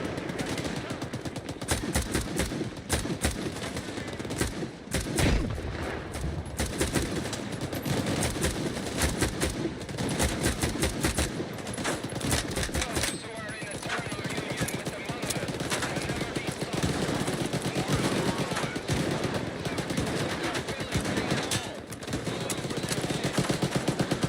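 Sustained gunfire from S.T.A.L.K.E.R. 2: Heart of Chornobyl, with rapid automatic bursts and repeated shots cracking almost continuously across the whole stretch. The shooting is loud and close, with occasional talk mixed in.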